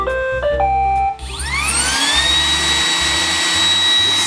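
An iRobot Roomba 980 robot vacuum cleaner starts up with a short run of electronic beeps, then its motor spins up into a loud, steady whine with rising pitch that holds through the rest.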